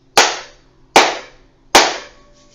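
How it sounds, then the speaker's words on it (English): Three sharp, loud hand claps, evenly spaced about a second apart, each ringing briefly before the next. "we're going to clap the hands together 3 times"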